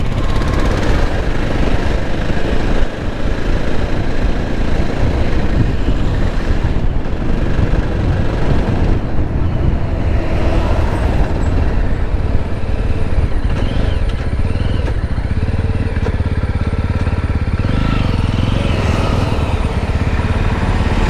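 Jawa 42 or Royal Enfield Classic 350 motorcycle engine labouring and knocking after a downshift, a loud continuous low rumble throughout the ride with no talk over it.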